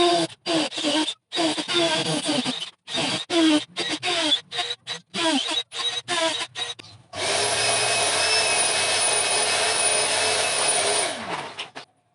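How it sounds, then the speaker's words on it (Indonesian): Repeated short bursts of a power drill boring into steel framing or GRC board for a workshop wall, stopping and starting, then one long sustained whine of drilling that fades at the end. "Kita bor dulu di titik-titik yang sudah ditandain tadi."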